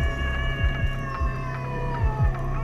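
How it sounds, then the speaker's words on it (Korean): Stray cat at a bus terminus letting out a sharp, drawn-out caterwauling cry, loud and near, rising and falling over a steady engine-like hum. "날카로운 울음소리와 함께 종점에 낯선 고양이 한 마리가 등장했다"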